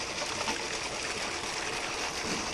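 Water pours continuously out the front of a trommel, a close, steady rushing and splashing with no pauses and no voices.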